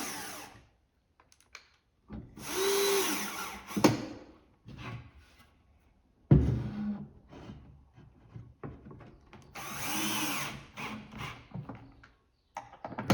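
A power drill drives screws straight into the back leg of a piece of furniture, in a few separate bursts of whirring with quiet pauses and small knocks between them, close by.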